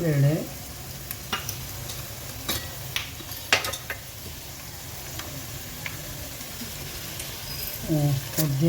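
Mustard seeds and chana dal sizzle in oil with a continuous hiss and occasional sharp clinks, while a voice speaks briefly at the start and end.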